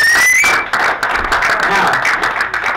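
Audience applause for a volunteer at a magic show in a playhouse, a dense burst of clapping that fades within a few seconds, with a voice cutting over it near the start.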